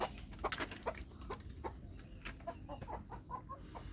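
Free-range village chickens cluck softly in a laying and brooding coop, with scattered short clucks and scratchy movement at a quiet, moderate distance, no talking.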